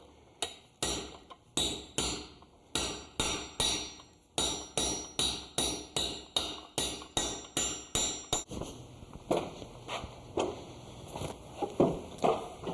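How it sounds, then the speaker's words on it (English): Rivets being peened over with a rivet set on an anvil while building a buggy wheel: a steady series of about twenty sharp metallic hammer strikes with ringing overtones, close and loud, then a softer, busier stretch of lighter taps. "take them to the anvil, and with a rivet set, we'll tighten them up. We'll peen the rivets over"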